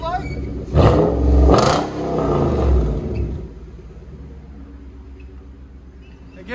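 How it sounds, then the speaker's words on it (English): A 2017 Nissan Titan pickup with a 5.6L V8 and true dual side exhaust with Flowmaster Super Thin mufflers revs twice in quick loud roaring bursts, then drops back to a lower idle rumble. "This is what it sounds like."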